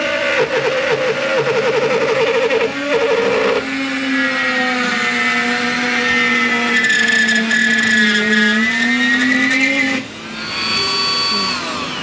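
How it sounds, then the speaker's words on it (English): A Dremel rotary tool cuts into the plastic transmission pan cover of a BMW 540i 3.0 turbo with a ZF8 gearbox, giving a loud, steady high-pitched whine that shifts pitch as it bites, briefly dipping near the end. "I'm gonna cut this out with a Dremel real fast."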